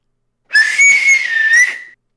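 A person whistles one sustained, slightly wavering note held for about a second and a half, loud and close, with no talking.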